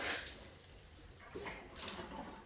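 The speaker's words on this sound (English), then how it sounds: "So I'll just give it a quick bit of water here." Water poured from a hose or can onto a freshly repotted ash bonsai, a soft continuous splashing and trickling into soil that rises and falls slightly, fairly close and moderately quiet, with no talking.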